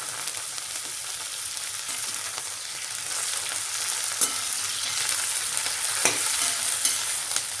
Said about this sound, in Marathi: आपल्याला कोथिंबीर पण छान फ्राय करून घ्यायची